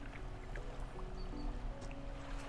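A fishing boat engine chugs steadily in the Dredge video game, a low continuous rumble with faint water lapping against the hull, holding a constant level throughout with no speech.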